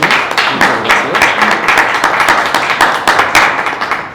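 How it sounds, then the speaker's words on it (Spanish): An audience applauds panel speakers after a talk on distributed electricity generation, dense steady clapping from many hands filling the room for several seconds. "primero quisiera pues darles un aplauso porque ha estado fenómeno"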